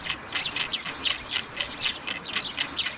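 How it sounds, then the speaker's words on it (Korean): A sparrow chirps in quick repeated bursts, a steady run of bright, close tweets with no voices over them. "정답은 참새입니다."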